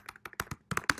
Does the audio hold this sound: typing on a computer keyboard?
yes